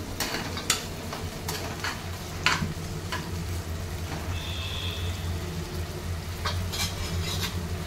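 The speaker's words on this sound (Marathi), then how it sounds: "टोमॅटो घातल्यानंतर त्याला पुन्हा एकदा छान हलवू" Chopped tomato being stirred into softened onions frying in a pan for a Konkan-style sprouted val (field bean) bhaji, with a steady close sizzle under scattered scraping spoon strokes and clinks.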